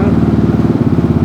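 A Yamaha X-Max 300 ABS scooter from 2018, fitted with a muffler silencer insert, idles steadily with a low, even engine throb close by and no voices.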